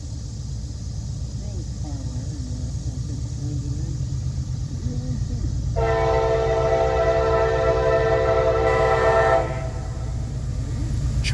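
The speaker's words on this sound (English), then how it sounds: "And we are waiting on a train." A train rolls past on the railway with a steady low rumble of wagons, and its horn blares for several seconds midway through.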